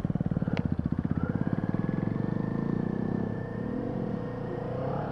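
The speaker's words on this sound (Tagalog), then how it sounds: "Rinig kaya sa camera yung ugong ng makina na ito." A Kawasaki Z400 motorcycle engine running on a ride, a close, rhythmic pulsing hum that evens out into a steady drone with slight rising pitch, no voices.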